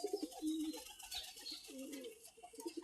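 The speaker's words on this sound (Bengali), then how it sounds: "কবুতরগুলা চালে উঠে কুম্বাকুম করতেছে" Pigeons perched on a farmyard roof coo in soft, rolling bursts, faint and somewhat distant, with a hiss of background noise over the low calls.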